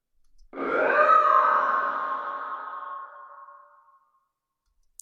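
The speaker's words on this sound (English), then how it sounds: "that's what it sounds like with pitch shifting" Monster voice for game sound design, treated with distortion and a slight upward pitch shift, a single growling, roaring swell that rises quickly and then fades out over about three seconds on its own.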